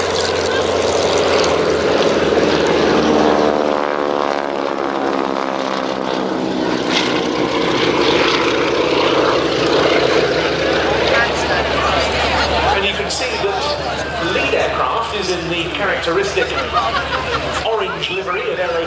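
Propeller-driven wingwalking display aircraft flying overhead at an air show, a loud continuous droning engine note that rises and sweeps in pitch as the planes pass, with a commentator talking throughout.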